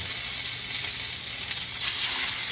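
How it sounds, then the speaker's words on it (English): Salmon fillets sear in hot olive oil in a pan, giving a steady, close hiss of sizzling that holds evenly throughout and swells slightly toward the end. "And then I'm going to sear that salmon."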